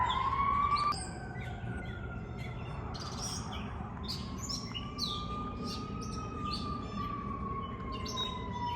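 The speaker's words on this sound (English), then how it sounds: "I don't know where that fire truck is going." Fire truck siren passing down the street, a wailing tone rising and falling steadily throughout, heard at moderate distance alongside chirping birds and faint street noise.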